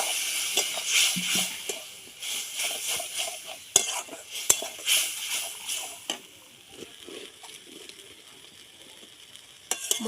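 Cumin and green chili paste is sautéed with a little water in a pan for a Bengali prawn curry. Close, lively sizzling comes with irregular spatula scrapes and sharp clinks against the metal, and it softens toward the end.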